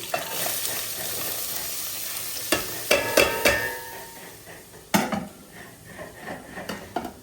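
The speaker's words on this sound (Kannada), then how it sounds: "ಇವಾಗ ಪಲ್ಯ ಮಾಡೋಕ್ಕೆ ಎಣ್ಣೆ ಹಾಕಿದ್ದೀನಿ ಮೆಣಸಿನ್ಕಾಯಿ ಹಾಕ್ತಿದ್ದೀನಿ" Green chillies frying in hot oil for a Karnataka-style palya, with a steady sizzle broken by a few sharp crackles and spatula scrapes against the pan, close and alone without any talking.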